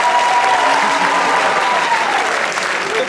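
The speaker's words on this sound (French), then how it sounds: "Par applaudissement, c'est qui le mange en le roulant avec une fourchette?" Comedy-show audience applauding a stand-up comic, a dense, steady wash of clapping from a large crowd that holds loud for about three seconds before tapering slightly, with faint voices mixed in.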